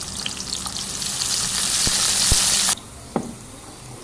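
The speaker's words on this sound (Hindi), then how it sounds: "थोड़ा सा प्याज को सौते करेंगे।" A small portion of chopped onion sizzles and fries steadily in a hot pan, a loud bright hiss building for a few seconds, then cutting off abruptly to a quiet background with a faint clink.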